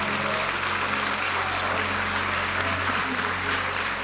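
A church congregation applauds during a sermon, steady sustained clapping filling the room throughout at an even level.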